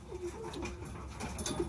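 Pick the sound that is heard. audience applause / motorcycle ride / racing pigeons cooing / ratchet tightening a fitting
racing pigeons cooing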